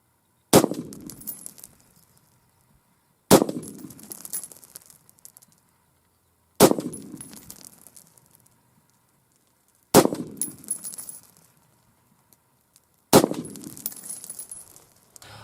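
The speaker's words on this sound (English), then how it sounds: "I want to try a little bit of one-handed shooting with my sling setup here" Five loud pistol shots from an AR pistol fired one-handed at 25 yards, evenly spaced about three seconds apart, each a sharp crack with a ringing tail and no talk between them.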